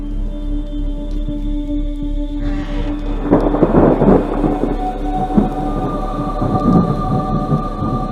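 A deep rolling rumble of thunder swells in after a steady low hum, surging in heavy waves before easing off, with no voices.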